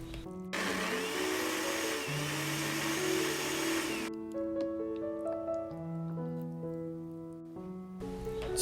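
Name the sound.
food processor blending steamed purple sweet potato with water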